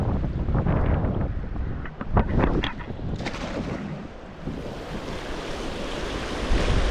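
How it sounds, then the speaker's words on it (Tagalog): Loud, continuous roar of heavy surf with waves crashing close by, mixed with strong wind buffeting the microphone. "Grabe, lakas ng alon."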